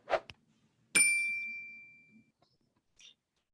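A notification bell ding plays once as a sound effect, a bright single chime that rings out and fades over about a second, with a couple of faint clicks around it.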